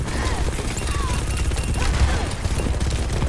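Mauga's guns firing in Overwatch 2, a dense, continuous rattle of rapid automatic shots with booming low impacts, loud and sustained with no break.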